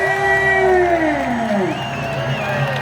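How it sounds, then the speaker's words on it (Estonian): A festive crowd at an Estonian independence celebration concert cheers, whoops and claps loudly, with sustained shouting voices and applause filling the space close up. "teeme ise endale aplausi"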